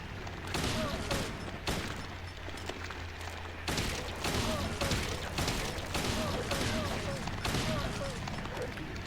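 Gunfire in the survival horror video game Silent Hill 2: a series of sharp shot bursts repeats at a fairly even pace over a low, murky ambient background, all heard at a modest level.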